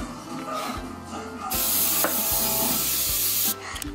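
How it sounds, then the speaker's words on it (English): Coconut oil cooking spray released in one steady, fairly loud hiss lasting about two seconds during meal prep, with quieter kitchen handling sounds before and after. "Coconut oil spray."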